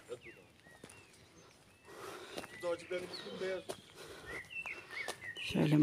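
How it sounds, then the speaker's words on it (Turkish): Birds chirp and tweet intermittently in the open air of a village countryside, with high calls scattered throughout while a person talks over them. "Şu kuşların sesinin cıvıldısı insana yeter."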